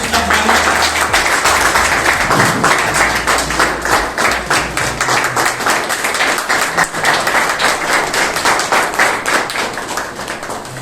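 Audience applause welcoming a guest at a school gathering, dense steady clapping that fills the whole stretch, loud and close, with a faint voice briefly underneath.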